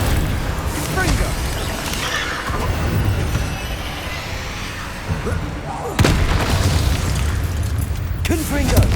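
Heavy explosive blasts from the Confringo fire spell in Hogwarts Legacy boom out over a dense, loud game soundscape, with sharp bursts near the start, middle and end under a shouting voice.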